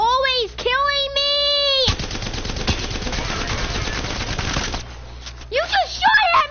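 Sustained automatic gunfire in a video game rattles loudly for about three seconds between bursts of excited, distorted shouting from young players.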